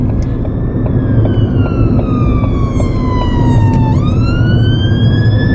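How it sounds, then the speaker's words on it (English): A loud wailing ambulance siren passes close by in traffic. Its rising and falling tone sits over steady road rumble and dips sharply in pitch as the vehicle goes by. "it always makes me feel really emotional when ambulances go"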